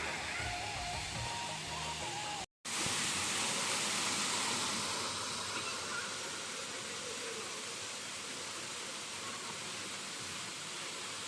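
Khursura waterfall running low in the dry season, a steady broad rushing wash of falling water with a brief dropout early on, continuous and fairly close.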